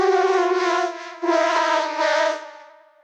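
A Cubase 13 Vocoder preset called 'Unpleasant Announcement' gives a harsh, buzzy synthetic tone that wavers like a siren, rising and falling in two long swells before fading out, with no voices.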